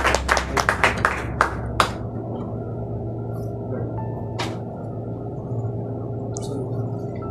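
A church congregation claps in a quick burst of sharp, close handclaps that fades after about two seconds, leaving a low steady hum with a few isolated claps.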